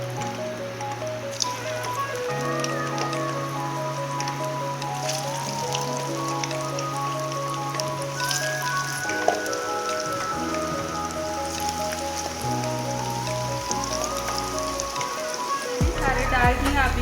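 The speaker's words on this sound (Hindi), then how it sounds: "घी मेरा गर्म हो गया है, अब पकौड़े डालते हैं।" Maggi noodle pakoras dropped into hot ghee and frying, a continuous crackling sizzle like rain on a surface, heard under steady background music.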